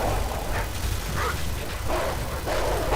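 Dogs barking and yipping in Call of Duty MW2, several short bursts over a dense, loud game soundscape.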